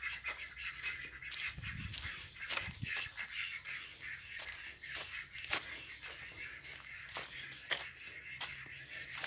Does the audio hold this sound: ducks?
yes